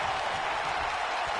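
A wrestling arena crowd cheers and applauds during a handicap match, a dense, steady roar with no break.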